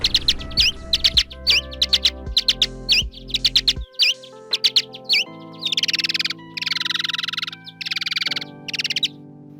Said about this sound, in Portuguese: A gente vai ver que tem alguns morcegos ali que cantam como pássaros para acasalamento.